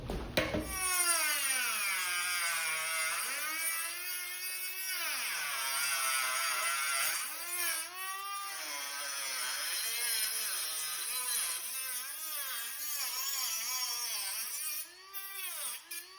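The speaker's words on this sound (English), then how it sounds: "I'm just going to take a little teeny cut-off disc and chop out the middle" A small, teeny cut-off disc on a rotary tool chops out the middle of a wooden beam for a slide arm bench hold-down, a steady close, loud whining grind with rising and falling pitch that runs continuously and dips briefly near the end.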